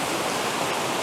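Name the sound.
waterfall in woods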